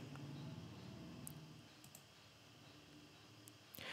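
A single quiet mouse click for signing in, close and soft over a faint steady room hum, followed by a few light ticks, with no talking.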